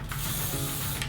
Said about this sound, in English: Then I like to grab my Elnet satin hairspray and then just kind of spray